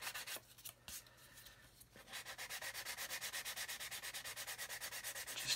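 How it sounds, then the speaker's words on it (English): A coarse sanding stick rubs across Airfix 1/72 Vulcan plastic model parts, first in a few separate scrapes, then settling into fast, steady back-and-forth strokes heard up close and fairly quiet. "So I'm just going to carry on sanding these. I'm going to use a coarser stick to start."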